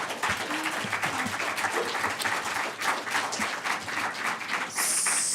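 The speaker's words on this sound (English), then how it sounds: "they still love you by the applause" Steady applause from an audience at a public council meeting, a dense continuous patter of clapping filling the room for several seconds at moderate level, with a faint voice briefly audible underneath.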